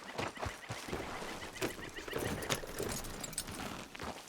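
Horse hooves clip-clopping steadily at a walking pace in Red Dead Redemption 2, with occasional brief snorts and bird-like honks in the background.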